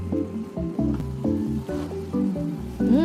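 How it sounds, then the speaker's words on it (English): Chicken being stirred in a cooking pot, giving wet squishing and sloshing sounds in uneven bursts, close up and fairly loud, with no talking. "Alright, now let's stir. Stir it all in."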